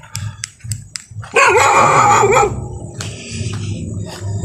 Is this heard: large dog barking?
yes